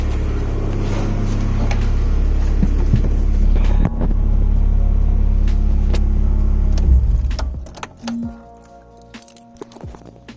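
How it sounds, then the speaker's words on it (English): A Honda H22A engine idles after a head stud install, with a loud steady low rumble that runs for about seven seconds and then cuts out, leaving a faint whine and a few clicks. "Well, it runs. That's good to know. And it sounded nice and healthy."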